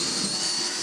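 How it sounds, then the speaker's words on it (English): A power drill bores a hole through a wooden cornhole board, giving a steady, loud whirring whine that runs without a break for just under a second. "Alright, now we're just gonna drill a hole, that way we can get access with the"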